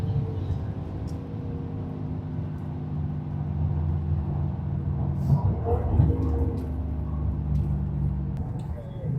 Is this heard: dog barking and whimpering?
no